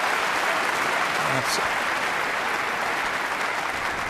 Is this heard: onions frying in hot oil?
no